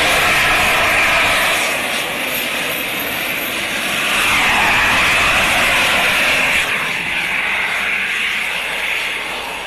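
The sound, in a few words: Gravity Industries jet suit flying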